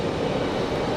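Breeze Airways Airbus A220-300 jet arriving from Portland, Maine, at Raleigh-Durham airport, its engines giving a steady, loud broadband roar that holds even throughout the short stretch.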